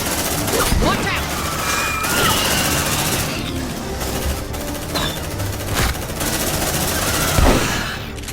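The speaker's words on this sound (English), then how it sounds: "The sound of the sentry guns, the sound of the pulse guns." Dense sentry gun and pulse rifle fire from the Aliens: Dark Descent video game on PS5, sustained loud rapid bursts with sharp reports over a continuous roar, plus a few louder standout shots.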